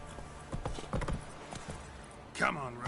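Hooves of the horse Roach clip-clop in a PS4 video game, several close, hollow knocks in an uneven gait, followed by a voice speaking over them.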